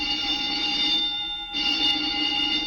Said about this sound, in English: The old woman must have turned in an alarm.